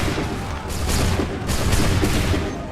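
A musket volley fires in the Assassin's Creed 3 video game, a dense crackling fusillade of many overlapping shots rolling on for a few seconds, loud and close.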